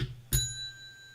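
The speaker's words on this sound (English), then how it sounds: "We got a bell." A small bell is struck once, a bright ringing ding with clear lingering overtones that decays over about a second, close and fairly quiet, following a brief soft sound at the start.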